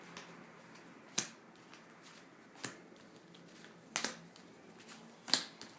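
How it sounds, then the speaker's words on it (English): Tarot cards are pulled and shuffled for a reading, heard as a few sharp, isolated flicks and snaps spaced a second or more apart over a faint, quiet background. "Pulling the cards now."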